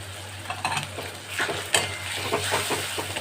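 Chopped tomato and capsicum dropped into hot spiced oil for a soybean masala, frying and stirred in a pan: crackling sizzle with repeated spoon scrapes and clinks, close and alone.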